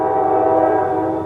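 A train passing near a rural loading spot where a KIOTI CK2610HST tractor is being loaded onto a 2011 Ford F-150, its horn sounding as one loud, steady, sustained blast.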